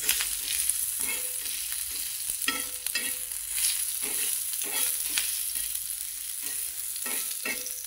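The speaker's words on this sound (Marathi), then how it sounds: "तो पण तेलामध्ये छान असा भाजून घ्यायचा" Crushed roasted onion frying in hot oil for a Maharashtrian black masala festive amti, with a soft steady sizzle broken by repeated scraping stirs of a spoon in the pan, close and with no talk.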